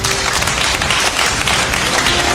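A live audience claps together to cast a vote during a stage show, making a loud, steady burst of close applause with no talking over it.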